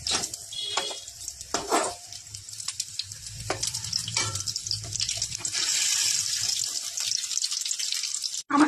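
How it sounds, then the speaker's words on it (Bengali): Bean (shim) pakoras crackle and sizzle steadily in hot oil in a Bengali kitchen, with occasional clicks and scrapes as pieces are turned, the hiss swelling louder toward the end; no speech. "আমার তো এটা ভাজা হয়ে গেল"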